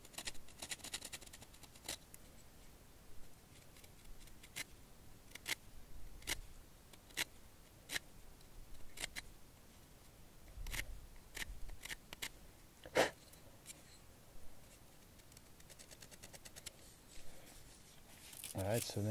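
A knife carving a bowstring notch into a primitive wooden arrow shaft, with sharp, sparse scraping and cutting clicks spaced irregularly over quiet handling and soft background voices.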